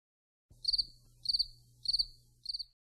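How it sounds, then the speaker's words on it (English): A cricket chirps in four evenly spaced bursts, each a rapid trill of high pulses, close and clear against near silence with a faint low hum beneath. "Cricket."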